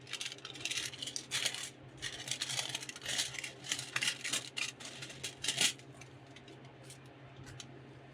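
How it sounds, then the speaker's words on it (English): Small scissors snipping foil for a custom crankbait lure, a quick series of faint crisp clicks and crinkles, close up, with no talking. "then I just take some small scissors"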